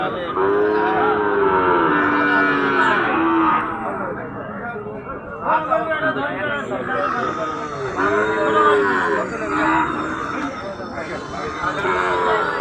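Cattle at the Ambari cattle market in Dinajpur, lowing in long drawn-out moos, several loud close calls one after another, over a busy crowd murmur.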